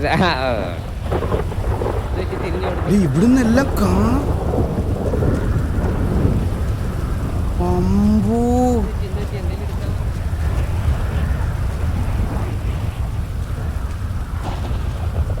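Steady, loud rain with a deep thunderstorm rumble fills a rainy scene in a GTA roleplay city, running continuously while voices chat over it.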